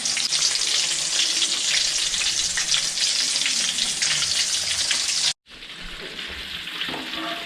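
Pieces of broasted chicken fry in deep hot oil with a loud, dense, continuous bubbling sizzle up close, which cuts out briefly and returns quieter.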